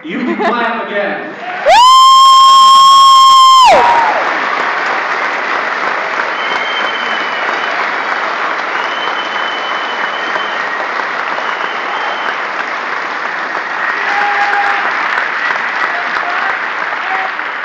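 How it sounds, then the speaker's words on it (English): Loud, sustained applause from a rally crowd at a Ron Paul event in Mount Pleasant, Michigan, with whoops and cheers mixed in, briefly cut across early by a sharp electronic tone before the clapping carries on steadily. "You can clap again."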